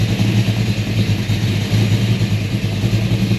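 A Ford 351 Cleveland V8 with 4-barrel heads and a Blue Thunder intake, in a 1973 Mach 1 Mustang, idles while warming up, giving a steady close rumble with no talk.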